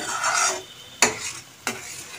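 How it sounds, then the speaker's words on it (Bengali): A spoon scrapes through masala frying in a pan for a boneless meat and egg dish, a soft sizzle underneath with two sharp scraping strokes against the pan, close up and with no talking. "মশলাটা কিন্তু ভালো করে কষাতে হবে, তাহলে দেখবে একদম তেল ছেড়ে আসবে।"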